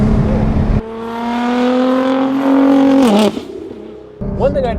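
A tuned Nissan GT-R with a custom exhaust roars past, its engine note rising through hard acceleration to a loud peak, then cutting off abruptly, with engine sound before and after.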